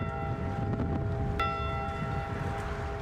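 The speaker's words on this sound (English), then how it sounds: "they will once again ring the ship's bell 29 times to honor them" A single bell stroke rings out over a steady low rumble and hum, its tone sustaining and slowly fading — the Edmund Fitzgerald's ship's bell struck in a memorial for the Great Lakes shipwreck.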